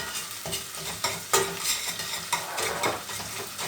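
Tomato paste sautés in a pan for a dried eggplant and rice stew, with a steady close sizzle and several scraping stirs of a spoon against the pan, no talk.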